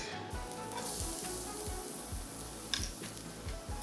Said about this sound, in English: Add garlic, quick saute, get a little bit of color on it.